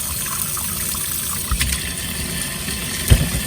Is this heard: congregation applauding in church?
no